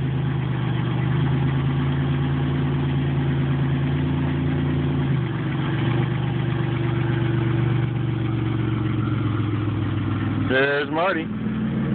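A car engine idles steadily, then revs and pulls away, and the sound fades as the car leaves. Someone speaks briefly over the engine near the end.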